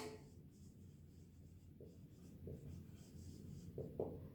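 Chalk or marker writes on a classroom board during a geometry lesson, making a steady, close scratching with a few sharper tapping strokes and no speech.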